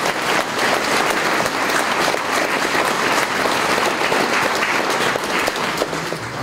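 A crowd applauds at a Hungarian event announcing government funding for a new gym in Gyimesfelsőlok, a Csángó village. The clapping is loud, dense and sustained throughout, with no break.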